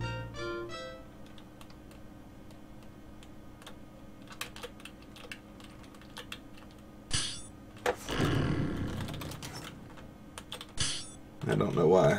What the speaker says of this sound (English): I don't know why I have to keep on typing fight at this thing.